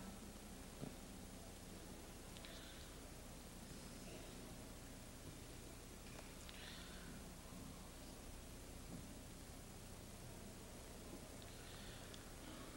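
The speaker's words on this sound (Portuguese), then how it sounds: "A finalidade básica da utilização do ruído branco nos experimentos de transcomunicação é gerar um campo para servir de portadora" Steady broadband white noise, generated as a carrier for instrumental transcommunication experiments, hisses faintly and evenly throughout with a few soft crackles and no voices.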